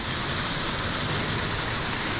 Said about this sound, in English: Would love to go underneath this waterfall and cool down.